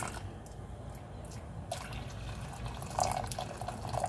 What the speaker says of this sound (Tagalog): Lalagyan ko ng mainit na tubig para mabilis.